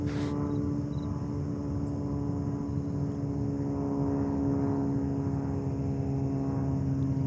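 A government flight for the UN General Assembly arrives at JFK Airport in New York, with a steady droning engine hum and strong tonal whine held at an even level throughout, no voices present.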